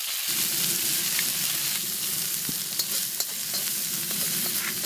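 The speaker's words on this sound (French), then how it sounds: "je fais revenir les oignons avec les carottes" Onions and carrots sauté in a pan just after browning rabbit, giving a loud, even, continuous sizzle with a couple of sharp utensil clicks partway through.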